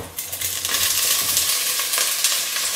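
Onions dropped into a hot pan with pork rind pieces for poulet basquaise, a loud close sizzle and crackle with stirring clatter, steady throughout, no talking.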